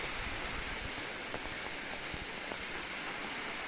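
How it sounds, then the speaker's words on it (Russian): Heavy night-time rain shower turning into a downpour, a dense steady hiss of rain pounding surfaces, close and loud, with a few sharper drop hits and no pauses. "пойдет дождик. Вот он и пошел. Но он превращается в ливень."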